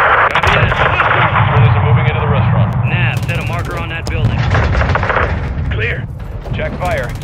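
Heavy gunfire and artillery explosions in the Call of Duty Modern Warfare 2 video game, a loud, dense barrage of booms and rattling shots, with shouted radio chatter from soldiers over the battle.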